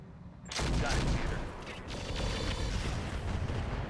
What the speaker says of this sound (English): But maybe fire one of these tandem rockets